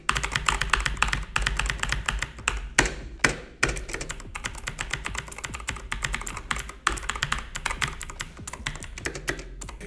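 Rapid, steady typing on a Razer BlackWidow V3 Pro mechanical keyboard, close and crisp, with dense clacking keystrokes and a few brief pauses, no talking.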